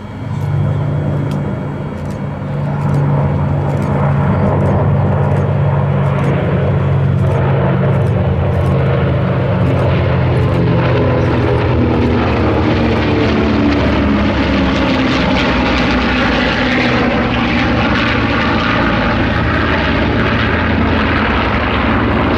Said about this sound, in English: these are very, very skilled pilots to fly that close together in such a mixed bag of aeroplanes